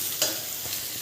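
Raw green mango pickle being stirred in a pan, a brief scrape of the spoon near the start followed by a steady soft sizzle for about a second, close and alone with no talk.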